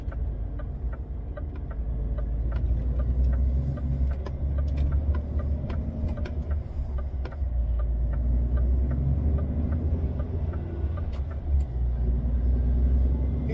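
A car engine drives toward Zvornik, a loud, steady low rumble that holds throughout with faint rattles on top and no talking.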